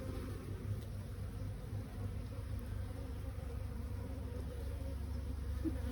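Steady, dense droning hum of honeybees around a hive, a continuous close buzz with no pauses, loud and unbroken throughout without any voices.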